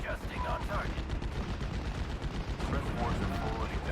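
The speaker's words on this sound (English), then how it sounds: "I'm going to start mortaring those Panzerjägers." Mortar and artillery fire in the WWII strategy game Steel Division: Normandy 44 at Pointe du Hoc, a dense run of overlapping booms and gunshots that continues without a break under the battle din.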